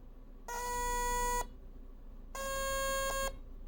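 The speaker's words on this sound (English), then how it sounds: "beep with 2 different notes in a forever loop, just like an alarm clock" Two long electronic beeps from a breadboard computer, each about a second, separated by a short pause; the second tone shifts pitch partway, giving a two-note alarm-clock pattern.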